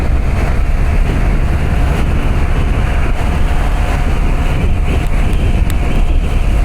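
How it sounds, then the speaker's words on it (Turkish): Loud, constant wind roar buffeting the microphone while riding a new Honda Activa 125 scooter, a steady dense rush that never lets up, with no voices. "Rüzgar var bugün bayağı rüzgar var."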